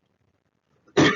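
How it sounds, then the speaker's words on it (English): A single sharp, harsh cough bursts out after near silence, close and loud, ending the clip. "As I cough"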